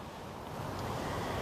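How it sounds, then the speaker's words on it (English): Wind-driven waves crash on a Long Island Sound shore in light rain, making a steady, dense wash of surf and wind noise that stays fairly faint and unbroken throughout. "we're getting these nice big waves when they crash on our shore"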